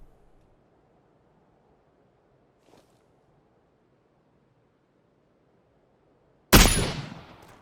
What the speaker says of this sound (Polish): To jakąś snajperkę na tłumiku usłyszałem też